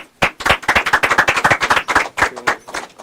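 Studio audience on a Turkish television show applauding to welcome a guest on stage, loud close clapping in a fast uneven flurry that continues for about three seconds.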